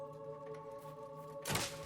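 A single dull thunk as a switch is shot in the video game Fable 2, heard over a quiet humming game ambience.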